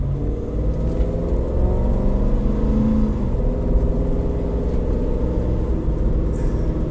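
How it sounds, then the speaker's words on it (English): A car accelerating along a quiet back road, its engine a steady, close, low rumble that builds smoothly and holds with no pauses, a faint whir riding above it and no voices. "I'm going to start to accelerate"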